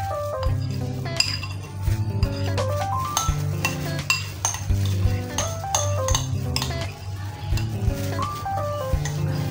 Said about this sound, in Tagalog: At imimix po natin ng todo sa ating niluto o ping-fried